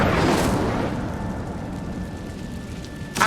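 A rushing, roaring burst of the Incendio fire spell in Hogwarts Legacy, loud at the start and fading into a sustained whoosh before a sharp crackle at the end.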